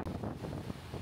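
Gusty wind buffets the microphone in low rumbling bursts on an overcast beach at Boracay, with a faint wash of surf behind it.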